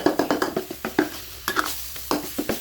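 Minced pork frying in oil for Thai larb, stirred with quick repeated scrapes and taps of a utensil against the pan over a soft sizzle, steady and close.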